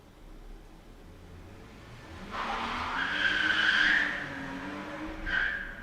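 A car driving fast outside skids with a drawn-out, rising tire squeal that peaks mid-clip, then a second short screech near the end, heard at a distance over faint background noise.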